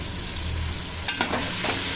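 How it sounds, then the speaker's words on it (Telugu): Fresh fenugreek leaves tipped into a frying potato and broad bean curry, giving a steady loud sizzle with a few brief crackling bursts toward the end. "దీంట్లో పెద్ద మెంతము, ఒక కట్ట పెద్ద మెంతం వేసేస్తున్నాను."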